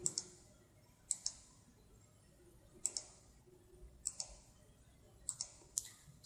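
Computer mouse clicks while digitizing line points in GIS software, sharp, close and quiet, coming singly and in quick pairs at irregular intervals over a near-silent room.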